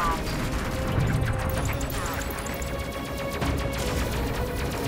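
Weapons fire in the sci-fi video game Space Crew: dense bursts of zapping shots and impacts over a constant layer of game sound effects, loud and continuous throughout.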